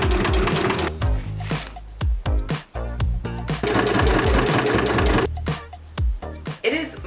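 A sewing machine stitches straps cut from old shorts in short, rapid bursts with brief pauses between runs, close and fairly loud.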